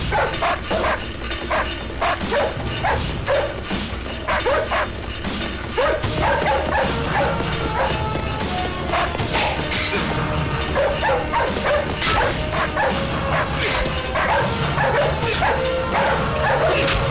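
Several dogs bark and yip repeatedly in a tense film scene, sharp overlapping barks running throughout over a dense, loud background with no talk.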